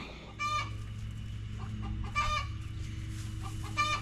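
Inside a chicken run, a hen gives three loud, sharp clucking calls spaced a second or more apart over a steady low background hum, close by and with no talking.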